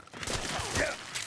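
Brief burst of gunfire in Metal Gear Solid 4, a quick cluster of muffled shots lasting about a second, mixed with game sound.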